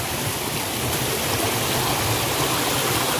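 Steady, dense rush of flowing water from a hidden forest stream spilling over a small waterfall in General Tinio, Nueva Ecija, loud and unbroken throughout.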